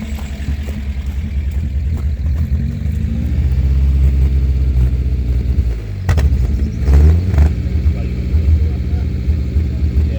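A 1969 camper engine runs just after a cold start, a loud steady low rumble with a slight rise in revs and a few clunks partway through, while voices talk in the background.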